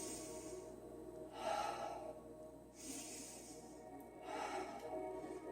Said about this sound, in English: Taking 2 more deep breaths here.